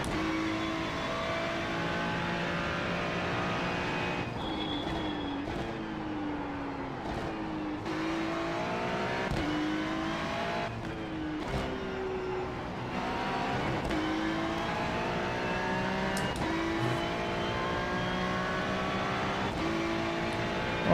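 A Porsche race car in an IMSA endurance race at the Nürburgring, its engine revving up and shifting over and over. The pitch rises and drops in long sweeps, steady and moderately distant, with no talk.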